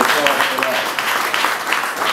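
A crowd gives a round of applause at the Sweetwater Brewery expansion and construction event in 2013, with dense clapping heard close up throughout.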